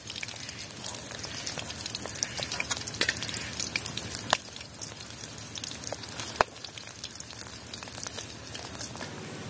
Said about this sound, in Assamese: মোৰ এতিয়া মাছটো সম্পূৰ্ণ ফ্ৰাই হৈ গৈছে।